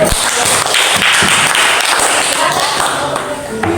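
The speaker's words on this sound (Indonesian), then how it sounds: "Jadi kita kasih aplaus dulu satu kali" A classroom of students claps together in one burst of applause lasting a few seconds, loud, dense and close.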